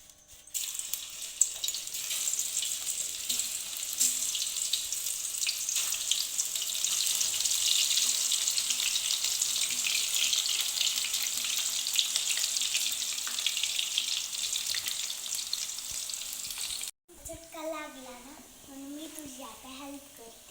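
Slices of raw banana frying in hot oil for crisp chips give a continuous bright, hissing sizzle lasting most of the stretch, then cut off as a voice speaks over quieter background.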